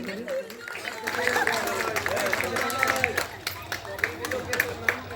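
An audience at a Saraswati Puja dance program claps during a trophy presentation to a dance academy. Scattered applause builds into sharper, denser claps toward the end, mixed with a loudspeaker voice and crowd chatter.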